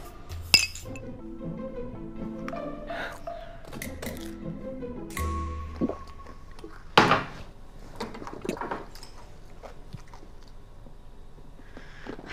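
Glasses clink together in a toast with wine during a Chinese fantasy drama scene: a few bright, sharp chinks rise from a quiet room, followed by soft thunks and faint sipping or chewing noises.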